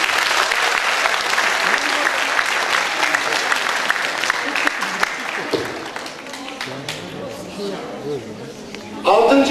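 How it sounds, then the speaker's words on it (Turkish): A school audience at a national culture quiz final applauds students, with dense clapping that starts strong, gradually thins and fades, then a voice speaks briefly near the end. "Öğrencilerimizi bir kez daha alkışlayalım."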